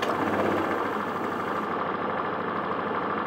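A Honda Vario 150 scooter idles after an ECU reset, its small engine putting out a steady, slightly uneven mechanical putter heard up close and continuously.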